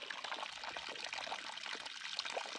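Water pouring and trickling in a continuous splashing stream, fairly close and steady, with no talk over it.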